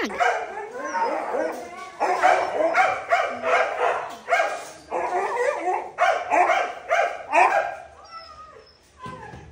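A husky barks, yips and howls in rapid, insistent bursts close by, nearly continuous with short pauses, and a person speaks briefly alongside.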